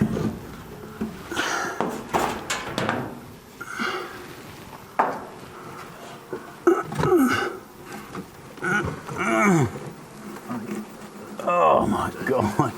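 A swarm of bees buzzing inside a shed, a busy insect hum running beneath voices and occasional knocks and handling sounds nearby.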